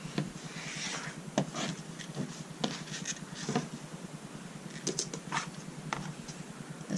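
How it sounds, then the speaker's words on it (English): Through several layers of quilting fabric, triangle blocks are trimmed with soft, steady rubbing and slicing sounds, punctuated by faint taps and clicks, quiet and close. "I'm going to trim through all the layers."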